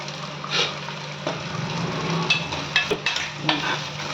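Spices temper in hot oil for a cowpea kuzhambu, giving a close, continuous sizzle with occasional spoon scrapes and light metallic taps toward the end.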